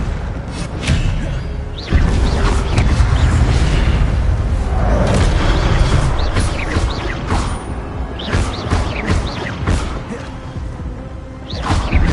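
Repeated spell-casting effects from the video game Hogwarts Legacy, with deep booms, whooshes and thuds layered in busy game action; bursts recur through the stretch, loud and close.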